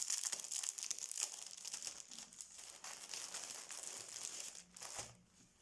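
Decorative papers are handled and crinkled close by, producing continuous crisp rustling and crackling with small bursts of louder crumpling, fading near the end.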